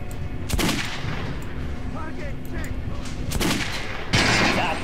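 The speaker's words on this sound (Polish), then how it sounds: "Now shooting armor dummy." Gunfire in the video game Metro: Last Light hits an armor dummy in several sharp, loud shots spaced a second or two apart, each with a trailing crack. Faint game ambience runs underneath.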